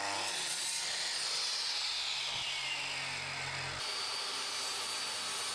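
A power saw cuts wood at a 45-degree angle for jig wings, a steady high whine with a lower motor drone that drops off partway through.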